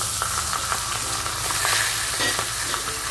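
A hilsa fish head fries in well-heated oil in a kadai wok, giving a loud, close, continuous sizzle and crackle broken by scraping stirs, with no one speaking.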